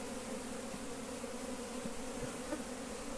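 Honeybees buzz steadily around a hive box during hands-on propolis production and hive management work, a dense, continuous drone close by with no pauses and no talk.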